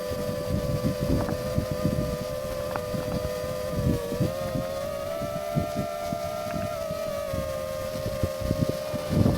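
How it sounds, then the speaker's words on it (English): Gusty wind buffeting an FPV drone's stick camera during a long-range flight up a ridge, a loud rough rumble with a steady motor whine rising and falling above it, no voices. "just starting to really feel the wind here. You can probably hear it on the stick cam actually."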